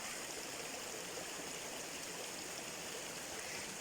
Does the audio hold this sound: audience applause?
no